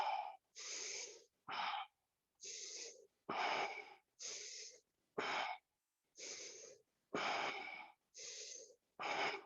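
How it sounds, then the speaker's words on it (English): Deep breaths in and out during a guided yoga session, eleven steady, evenly spaced breaths close by with short pauses between, alternating inhales and exhales, no talking. "Breathe in, breathe out."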